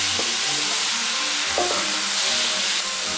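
Mushrooms and garlic stir-fried in a pan of hot oil over high heat, with a steady close sizzle and a couple of brief scraping stirs.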